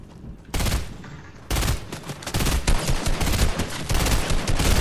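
Rapid, loud bursts of gunfire in Fortnite, dense overlapping shots and firefights crackling almost continuously after a brief quieter start.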